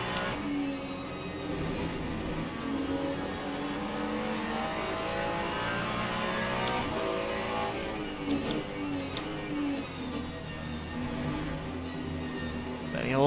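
Race car engines in Le Mans Ultimate at Spa, a Corvette running close alongside, layered high-revving engine whines rising and falling through gear changes, loud and continuous with a brief swell near the end.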